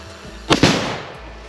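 Tannerite blowing up a beaver dam outdoors, a sudden sharp double blast with a brief rumbling tail that fades within a second.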